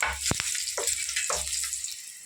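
Crackling sizzle of broken dried red chillies frying in hot oil, with a few sharp pops and spits, close and moderately quiet.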